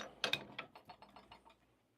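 A coffee grinder's grind-size adjuster turned through a quick series of small mechanical clicks, a couple of sharper ones first, then evenly spaced softer ticks that fade out, close up with no talking.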